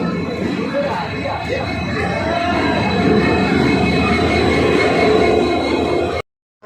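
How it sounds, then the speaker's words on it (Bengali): A train rolls into a railway station in a steady, loud rumble of wheels and carriages, with voices mixed in, before the sound cuts off abruptly. "ট্রেন ঢুকে গেছে"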